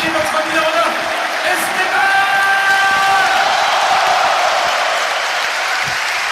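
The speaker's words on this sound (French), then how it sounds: "tonnerre d'applaudissements pour le buteur" Ligue 1 stadium crowd at a Stade Rennais versus RC Strasbourg match roars and applauds the goalscorer, a vast sustained wall of cheering and clapping with a whistle tone, a commentator talking over it.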